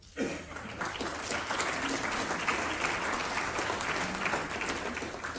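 An audience at a talk on penal mediation and restorative justice bursts into applause, a dense, even clapping that starts abruptly and holds steady, heard from within the room.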